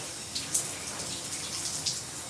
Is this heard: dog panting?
no